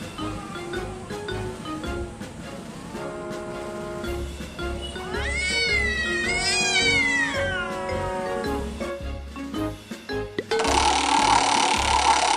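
Two cats fighting over territory, with drawn-out rising and falling caterwauls and yowls that build to a loud peak, then a burst of hissing spits near the end, close and continuous without any talk.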